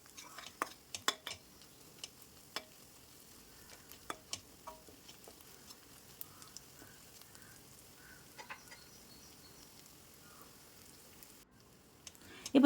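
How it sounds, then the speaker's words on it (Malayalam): Onions and green chillies sautéing in a pan for a Kerala coconut chicken curry, with a soft steady sizzle broken by sharp clinks and scrapes of a spoon against the pan, and no talk. "എരിവനുസരിച്ച് പച്ചമുളക് ചേർത്ത് കൊടുക്കാം. എത്രയാണോ ആവശ്യം അതനുസരിച്ച് ചേർക്കാം. നല്ലതുപോലെ ഒന്ന് വഴറ്റി കൊടുക്കാം."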